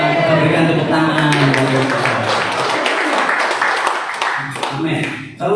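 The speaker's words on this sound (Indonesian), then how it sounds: "Nah, kita berikan tepuk tangan." Loud, dense clapping and applause from a church congregation at a Sunday service fills the room. It swells after an opening moment of voice and music, then thins slightly toward the end.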